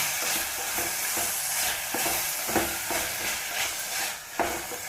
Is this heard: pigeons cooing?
no